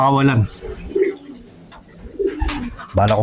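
Young pigeons coo in soft, low bursts, one at the start and another at the end, with faint chirps and light rustling in between.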